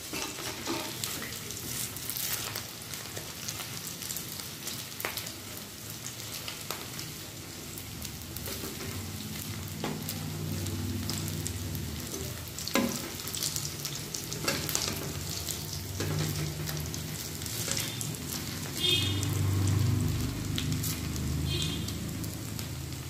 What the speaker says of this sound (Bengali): এইভাবে আমি পকোড়াগুলো ভাজব ভালো করে ভেজে নেব